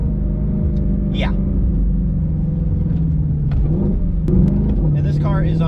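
A Ford Mustang GTD on Michelin Cup 2R tires hums with a steady low engine drone, with a brief rising rev and quick gear-change blips near the end, heard from inside under talking.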